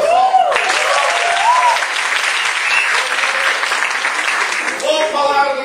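An audience at a stand-up comedy show bursts into loud, sustained applause and cheering, close and dense, with the comedian's voice breaking through briefly at the start and end.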